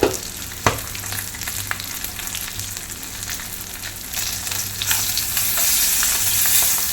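Fish head frying in a pan for a Kerala-style fry, a continuous crackling sizzle with a sharp clack near the start and occasional stirring scrapes, the sizzle growing brighter toward the end.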